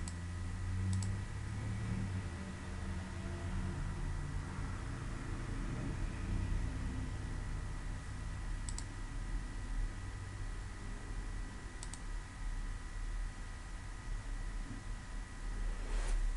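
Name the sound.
mouse clicking through DigiPlus admin settings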